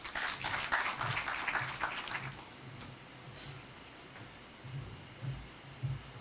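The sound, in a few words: audience applause at a launch event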